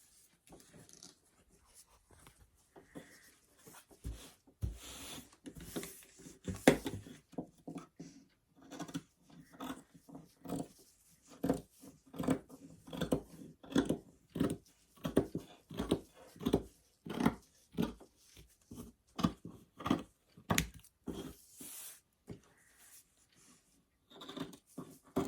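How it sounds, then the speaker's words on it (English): Scissors cut through two layers of fabric held together for a no-sew gnome, giving a long run of quiet, close, irregular snipping crunches that come in bursts. "What we want to do is put the 2 pieces together and cut them out like a Christmas tree."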